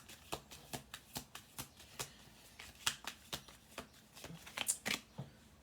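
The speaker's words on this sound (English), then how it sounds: "Okay, we'll do 2 more shuffle throughs on this." A deck of playing cards is shuffled repeatedly, giving a steady run of crisp riffling bursts about every half second with a few louder snaps near the end, close and clear with no talk.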